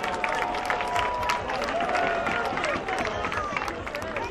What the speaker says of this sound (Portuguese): uma grande salva de palmas para vocês todos